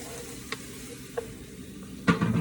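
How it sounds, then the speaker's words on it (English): Zucchini sauté in a pan with a low, quiet sizzle, broken by a few soft utensil clicks and a louder scrape of stirring near the end. "We're sauteing them."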